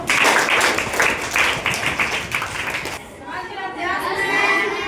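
Children in a classroom clap together in quick bursts under a teacher's voice, then the clapping stops and murmured chatter and talking continue.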